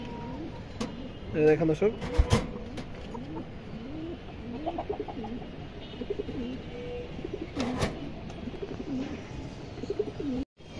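Female pigeons coo in repeated soft, throaty warbling phrases, close by, while someone talks over them almost continuously.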